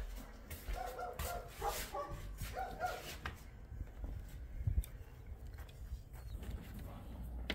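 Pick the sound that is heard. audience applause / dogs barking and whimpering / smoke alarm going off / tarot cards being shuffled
dogs barking and whimpering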